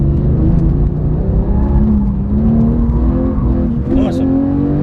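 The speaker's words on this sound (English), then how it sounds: "Go on, bit of gas now." A car engine hums loudly and steadily, its pitch creeping upward as it gathers speed, with a voice talking over the drone.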